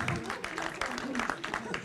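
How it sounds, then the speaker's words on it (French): Audience applause at a professional-training talk, clapping for a birthday: a steady, dense patter of many hands filling the room, with voices mixed in beneath the clapping. "Allez, oui, si, on peut l'applaudir."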